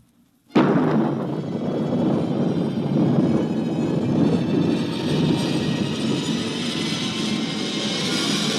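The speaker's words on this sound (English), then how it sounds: "countdown for blast-off" Rocket blast-off sound effect from a 1955 radio drama, bursting in suddenly after a short silence and settling into a loud, sustained roaring rumble that holds steady to the end with no speech over it.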